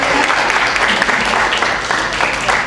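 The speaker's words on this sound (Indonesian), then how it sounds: "Berikan tepuk tangan sekali lagi" Audience applause after a panel discussion, loud and close, a dense crowd of clapping hands with a few sharper individual claps standing out.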